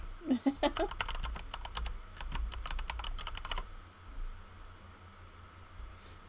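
Rapid clicking of a computer keyboard, with quick bursts of keystrokes for several seconds before they stop, leaving a quiet hiss. A few soft rustles mix in.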